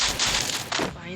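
A brief burst of gunfire in the Free Fire battle royale game, a quick cluster of sharp shots heard at moderate level, with a voice talking at the same time.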